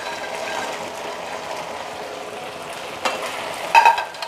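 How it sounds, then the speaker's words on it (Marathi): Soft, steady sizzling of fried cauliflower going into hot Manchurian sauce in a pan, followed by a few louder clattering stirs near the end. "आता मी त्यामध्ये तळलेला फ्लावर घालणार"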